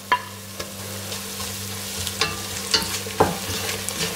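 Garlic and ginger fry in a pan for Ambur chicken biryani, giving a steady close sizzle with a few distinct clinks and scrapes of a spoon stirring against the pan.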